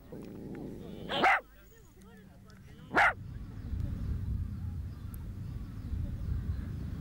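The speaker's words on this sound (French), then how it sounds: "Chez le chien, l'aboiement est un moyen de communication entre lui, sa meute humaine et ses congénères." A dog gives two short sharp barks a couple of seconds apart, close and loud, set against a low murmuring background of speech and room noise.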